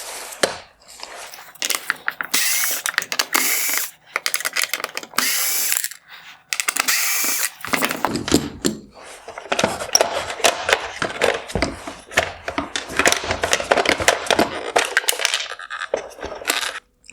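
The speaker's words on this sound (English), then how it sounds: "I'm going to remove the 4 T20 Torx screws holding in the cooling fan and duct" Ratchet clicking in rapid bursts while T20 Torx screws are backed out of the cooling fan and duct on a 2021-2022 Tesla Model 3/Y matrix LED projector headlight, loud and close with short pauses between runs.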